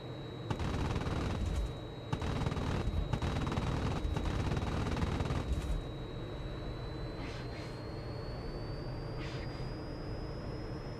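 Gunfire from crewed vehicles in a Korea campaign video game rattles in dense bursts for about five seconds, then fades to a steady engine drone with a rising whine.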